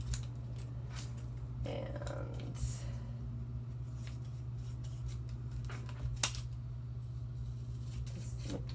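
Scissors snip paper cutouts for a caterpillar-parts labeling activity in a classroom, a few faint short cuts scattered over a steady low hum with a brief spoken word.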